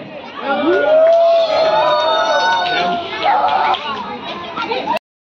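An audience at a Sangeet wedding ceremony cheers and whoops loudly, with overlapping shouts and excited voices filling the space. The noise holds steady for several seconds and then cuts off abruptly.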